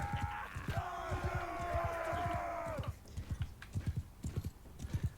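Hooves clip-clop in a quick, steady rhythm as a horse runs in the Mount & Blade Bannerlord game, close and moderately loud, with a drawn-out whinny over the first few seconds and then the hoofbeats continuing alone.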